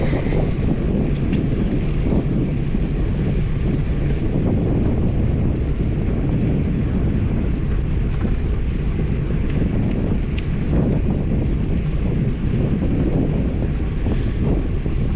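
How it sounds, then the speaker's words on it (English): Heavy wind roars across the microphone while riding a bicycle on the paved Lecanto trail in Florida. The low, dense buffeting is continuous and loud throughout, with no voices. "I knew it was going to be windy on this trip."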